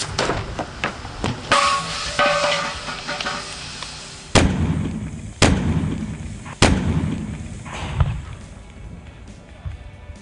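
Several loud, sharp blasts of a tire and wheel bursting from heat and pressure, three strong booms spaced about a second apart after an earlier noisy stretch, each followed by a rumbling decay, with no voice over them.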